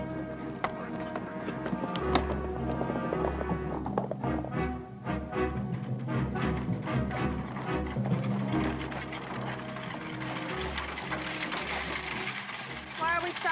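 A horse pulls along in a western drama setting, its hooves clip-clopping in a steady rhythm at moderate distance. Voices or background sound accompany the hoofbeats.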